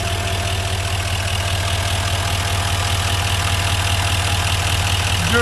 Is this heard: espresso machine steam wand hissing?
no